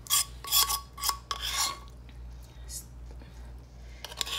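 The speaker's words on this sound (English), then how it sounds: "Sorry about the scraping." A utensil scrapes honey garlic sauce from a pan in a kitchen, with several short rasping strokes, then quieter rubbing and faint clicks over a low steady hum, fairly quiet and close.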